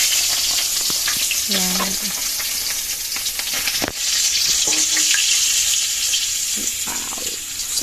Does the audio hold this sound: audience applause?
no